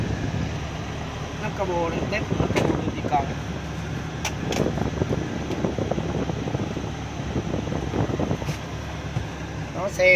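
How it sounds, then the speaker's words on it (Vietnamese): The air conditioning of a 1997 Kia Pride blows a steady broadband whoosh inside the car, with people talking over it throughout. "Có máy lạnh là mở, phải có lạnh rồi nè."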